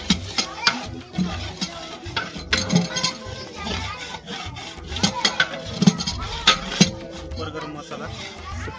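Biryani masala mixture for a 10 kg batch of chicken biryani is stirred and sautéed in a large pot, giving a steady scraping and rubbing with clinks of a utensil under a continuous talking voice.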